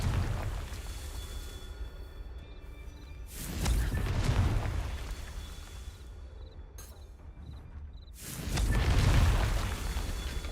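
Two Confringo blasting-spell explosions in Hogwarts Legacy on PS5, each a whooshing burst blooming into a deep boom, spaced several seconds apart over quieter game ambience.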